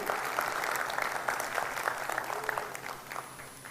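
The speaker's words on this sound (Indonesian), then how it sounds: "Tepuk tangan untuk Riwe." Applause for Riwe at an international leadership training event, a steady wash of many hands clapping at moderate loudness throughout, with faint crowd murmur underneath.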